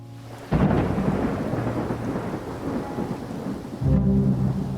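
A sudden tropical thunderstorm with heavy rain: loud rumbling thunder breaks in over a steady roar of downpour, fading slightly, then swelling again with another heavy crack and rumble near the end.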